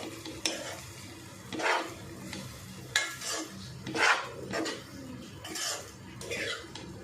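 Poha being stirred and mixed with coriander in a pan makes soft scraping spoon strokes and light clinks. The bursts are intermittent and fairly quiet, with a faint sizzle underneath.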